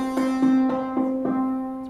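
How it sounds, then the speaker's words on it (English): Plain, unresonant synthesizer tone with a straight, bright timbre, played as a steady series of about six even notes at one pitch, close and clear with no talking. "Without any resonance, it'll sound like this."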